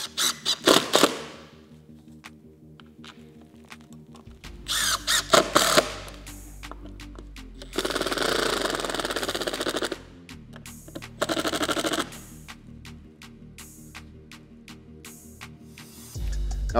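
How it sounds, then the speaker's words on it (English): Screws are driven to fasten a Minn Kota Terrova trolling motor heading sensor, with several bursts of power-driver whirring and ratcheting clicks separated by pauses, close and moderately loud. "Go ahead and put our screws in and fasten it down."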